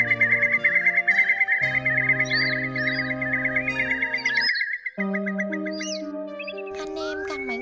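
A long-billed curlew call used as a lure for night netting of migrating birds repeats as rapid high chirping phrases over sustained synthetic musical tones with echo effects.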